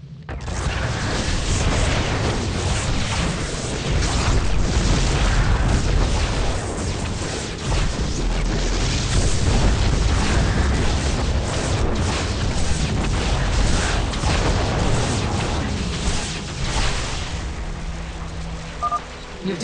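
A loud, continuous barrage of booms and explosions from a cannon being destroyed in StarCraft 2 rumbles on and on, with blasts overlapping in a dense, chaotic battle din.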